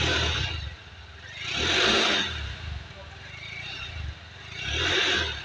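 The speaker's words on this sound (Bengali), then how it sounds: "এখনই শুনিয়ে ফেলি আপনাদের, এই যে বাইকটা স্টার্ট করলে" A new Honda Hornet 2.0 motorcycle in a showroom starts and is briefly revved twice, each rev swelling loud and then dropping back to a rough idle, with mechanical clatter between.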